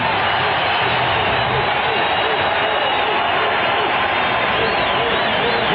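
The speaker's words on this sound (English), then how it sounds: "Let's hear it from the crowd." A 1992 Lakers home crowd roars at a Bulls game during a timeout, a loud continuous wash of cheering and whooping that fills the arena, with faint thuds and shouts inside the din.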